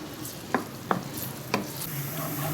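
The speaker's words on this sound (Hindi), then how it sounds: "इसमें ये प्याज ऐड कर दूँगी। प्याज को करूँगी लाइट गोल्डन ब्राउन।" Onions fry in half a cup of oil in a pan until light golden brown, giving a steady close sizzle broken by a few sharp scrapes from a stirring spoon.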